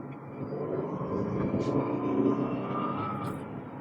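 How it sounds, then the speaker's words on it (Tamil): A Renault Kwid hatchback drones along while driving and overtaking, its engine and road noise forming a steady, moderately loud roar from inside the cabin that swells slightly midway. "என்ஜினோட ரே உங்களுக்கு கேட்கும்னு நினைக்கிறேன்"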